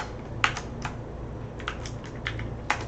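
Fingers tap steadily on a computer keyboard, a brisk run of soft clicks with a few sharper keystrokes, close and continuous with no talking.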